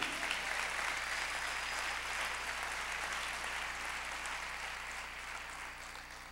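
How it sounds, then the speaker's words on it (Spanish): A church congregation claps together for several seconds, a dense, even wash of many hands close by that slowly tapers off. "dale un fuerte aplauso al Rey de Gloria."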